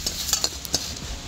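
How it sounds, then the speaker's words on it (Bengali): Panch phoron and cumin seeds fry in a pan with a soft, steady sizzle, broken by a few scrapes and clinks as they are stirred, for mango pickle. "মশলাগুলো খুব ভালো করে একটু ভেজে নেব"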